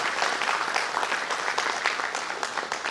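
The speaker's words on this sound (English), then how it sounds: "Clap, big round of applause for him." An audience at an Antarctica Day event gives a round of applause, dense, even clapping from many hands that stays moderately loud and steady throughout.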